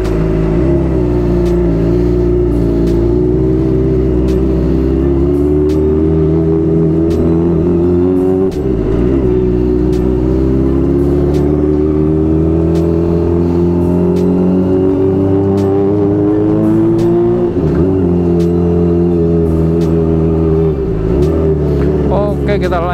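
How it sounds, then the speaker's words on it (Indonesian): Kawasaki ZX25R motorcycle with a loud Pro Speed aftermarket exhaust, a steady close engine drone that rises and dips with throttle changes as it rides, with brief revving swells along the way. "Knalpot ini suaranya kenceng banget"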